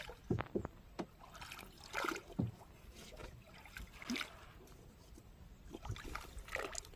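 Oars dip and pull through calm water as a small boat is rowed on a jungle river, with quiet splashes and trickling drips recurring at uneven intervals against a faint background.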